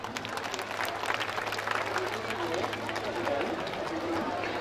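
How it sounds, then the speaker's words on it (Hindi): A crowd at a dargah gathering claps to welcome MLA Narendra Mehta, producing a fairly faint, steady patter of applause with voices and chatter mixed in beneath it. "आप सभी से गुजारिश है कि तालियों की आवाज़ से इनका स्वागत कीजिए"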